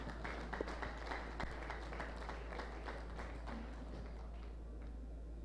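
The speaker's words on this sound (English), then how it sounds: "Please, I want to respectively ask you to clap specially for yourself." Pharmacists at a World Pharmacists' Day meeting clap together, a dense steady patter of many hands with some sharper claps standing out over a low room hum, continuous for a few seconds.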